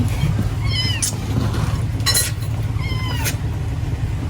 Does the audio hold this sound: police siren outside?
no